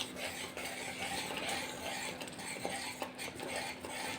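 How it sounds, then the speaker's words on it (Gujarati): A spoon stirs a dry spice mixture of garam masala, black salt and dry ginger powder for tamarind chutney, giving soft continuous scraping and light clinks against the bowl. "બધું હલાવી લેશું."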